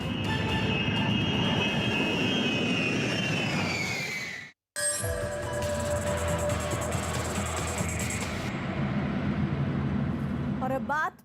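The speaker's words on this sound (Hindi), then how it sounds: "अमेरिका ने अब अपने सबसे भरोसेमंद बम वर्षक विमान को यूक्रेन की मदद में उतार दिया है।" Engines of a US bomber aircraft, a steady loud roar with a shifting tonal whine, briefly cut off before resuming, while someone talks over it.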